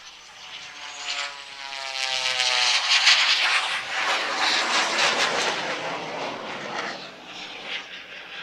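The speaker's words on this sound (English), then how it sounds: "As it comes by you, you hear the radial engine out front making noise, and then as it goes by, you hear the jet exhaust as well" Jet Waco taper-wing biplane fitted with a Learjet engine flies past at an airshow, a radial engine drone that swells into a loud roaring jet-exhaust rush and fades away, with no voices over it.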